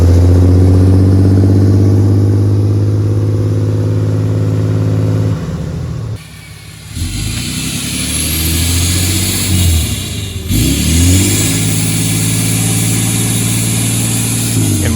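A 6.7 Cummins diesel truck fitted with a DPS third-generation turbo swap kit roars loudly up close, climbing through hard acceleration with a brief dip between gears before surging again, alongside rising turbo whistle.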